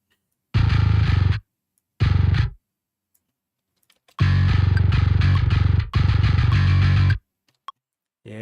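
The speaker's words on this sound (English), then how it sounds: "it's a solid sounding bass" Solid, heavily effected bass part in a production plays in loud, chunky bursts separated by silent gaps, with a brief longer run near the middle; no voices.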